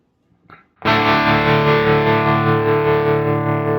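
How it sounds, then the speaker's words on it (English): Quad Cortex modulation effect with a smoothed saw wave on a distorted guitar, one loud sustained chord with gentle, rounded undulations and a faint reverb tail, heard alone after a short soft pick noise. "it's almost making the saw sound a little bit like the sine, right?"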